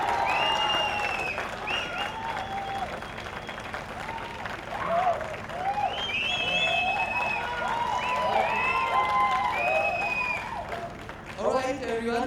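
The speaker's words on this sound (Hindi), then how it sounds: "Ladies and gentleman, for the serial एक बार जोरदार ताली हो जाए।" A studio audience applauds at the launch of the Life OK mythological serial Mahakumbh, a steady wash of clapping and crowd noise carrying on under a presenter's voice and tonal background sound.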